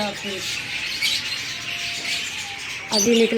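Pet green parrots in a cage give short squawks and chirps beneath a person talking nearby, with a louder burst of calls near the end.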